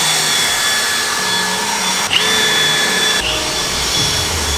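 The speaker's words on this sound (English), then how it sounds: "He's grinding them down so we can get a flush install." A power grinder works down powder-coated car wheel parts with a steady high-pitched whine and a brief break partway through, loud and close with no talking.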